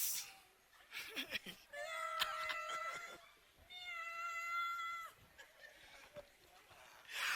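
A person imitates a cat, giving several drawn-out meows in a row, close and clear, with short pauses and brief vocal sounds between them.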